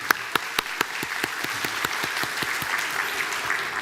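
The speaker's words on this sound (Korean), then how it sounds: "우리 박수를 다 같이 한번 격려합시다." A church congregation claps together during a Sunday morning service, a steady moderate round of applause with a few sharp individual claps standing out, no voices.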